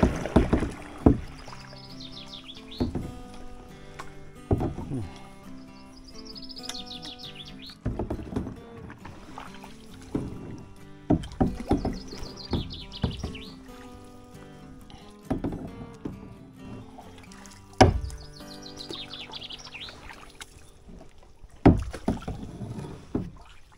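Paddles dip and splash in a small boat on a narrow river, with irregular strokes and knocks against the hull spaced a few seconds apart, while birds chirp in the background.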